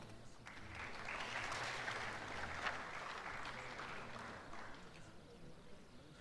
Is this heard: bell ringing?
no